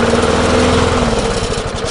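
A neglected old lawn mower engine with a faulty carburetor runs steadily and loudly up close, a continuous droning hum with a slight rough waver throughout.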